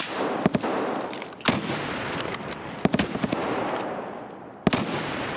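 Gunshots in Escape from Tarkov ring out as sharp, separate cracks, about half a dozen spaced irregularly over a constant noisy wash of ambient background, moderately loud and fairly near.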